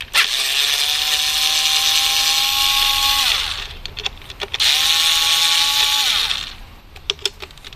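Two bursts of motor whine from a power tool backing out the ignition coil screws with an 8 mm socket on a Ford Focus 3 1.6 SCTi. Each burst lasts about three seconds, winds down at the end and is followed by light clicks.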